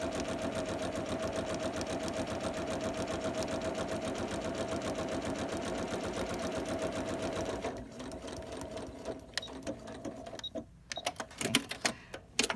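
A sewing machine stitches down a seam on a homemade cloth face mask, a steady fast mechanical whirr running for about eight seconds, then breaking into shorter stop-start bursts with clicks and pauses.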